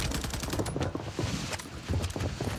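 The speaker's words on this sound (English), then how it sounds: "why are my teammates firing so long?" Sustained automatic gunfire from teammates in Warzone on Rebirth Island, loud rapid bursts of shots rattling through the whole stretch with a steady rhythm and no voices over it.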